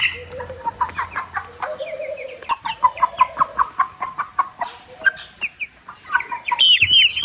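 Hens cluck in short repeated bursts close by while chicks peep in high, thin chirps, overlapping in a busy, steady chorus.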